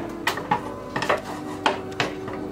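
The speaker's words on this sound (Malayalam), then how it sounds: "ഒരു പഴയ പാൻ വെച്ചിട്ടുണ്ട്, അതിന് മുകളിലോട്ട് വെച്ച് കൊടുക്കാം." A metal pizza pan is set down onto an old pan for double boiling, giving several sharp clanks and scrapes of metal on metal at close range, spread over a couple of seconds with no voices.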